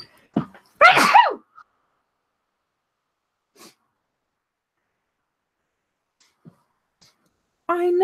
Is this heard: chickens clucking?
no